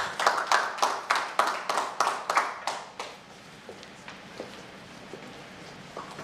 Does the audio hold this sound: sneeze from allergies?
no